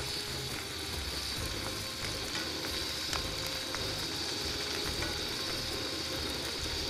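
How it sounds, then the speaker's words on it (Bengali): Sliced onions frying in hot oil for a Bengali fish curry, a steady broadband sizzle running the whole seven seconds with faint crackles and a low background hum, no talking. "গরম তেলে পেঁয়াজ ছেড়ে দেওয়া হলো"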